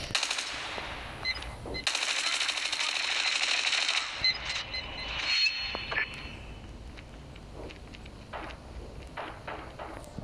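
Rapid automatic gunfire in Call of Duty Mobile, a dense burst of shots up close, then scattered bangs, clicks and quieter distant shooting trailing off.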